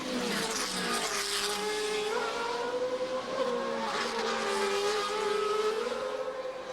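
A GP2 race car at the Hungarian round of the 2006 series screams past, its engine note rising and shifting through gears, loud and close, with a second engine tone trailing behind.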